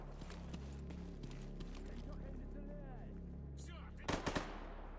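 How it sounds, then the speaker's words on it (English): Bandits firing guns in a video game, a string of sharp shots scattered through a busy background, then a louder cluster of bursts near the end. "more bandit shooting there."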